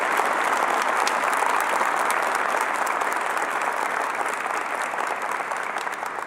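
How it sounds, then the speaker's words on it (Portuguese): A large crowd at a church youth camp claps loudly and steadily, a dense, sustained wash of applause with no talking over it. "Pode aplaudir mais uma vez? Aplaude mais uma vez."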